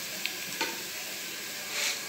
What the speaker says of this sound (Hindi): और इसको अच्छी तरह हम फ्राई कर लेंगे